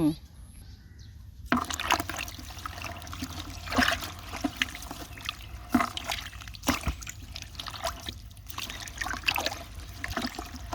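Red fermenting liquid made from vegetable and fruit scraps for EM fertilizer is stirred in a container, giving irregular sloshing, trickling and dribbling, with someone talking over it.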